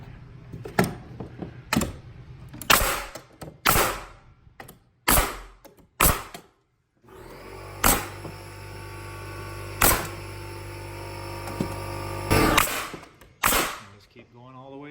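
Pneumatic nailer firing into hardwood stair risers, a series of sharp snapping shots spaced a second or two apart, close and loud, over a continuous background hum from a compressor in the middle stretch, with no talk.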